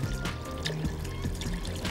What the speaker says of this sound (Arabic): هديله سنه من الميه